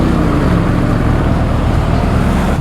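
A Can-Am Renegade G3 ATV engine runs loud and close, a dense continuous low-pitched roar with a rough throbbing texture and no breaks.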